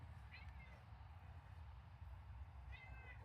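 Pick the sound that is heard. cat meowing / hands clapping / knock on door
cat meowing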